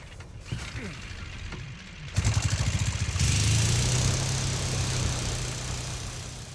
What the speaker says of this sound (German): Motor geht jetzt wieder, pass auf.